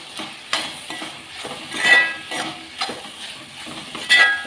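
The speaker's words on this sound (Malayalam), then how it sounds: "ഇത് നന്നായിട്ടൊന്ന് മിക്സ് ചെയ്ത് കൊടുക്കാം." Egg roast masala is stirred in a frying pan, with soft, close scrapes and shuffles of a spoon coming in irregular strokes over a faint sizzle.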